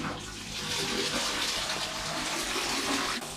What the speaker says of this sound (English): I go to pee in a toilet, I flush and it works